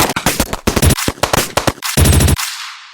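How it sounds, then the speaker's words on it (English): Rapid bursts of gunfire crack in quick succession, loud and close, with a sharp electronic ring over some shots before a short decaying tail. "Gunshot."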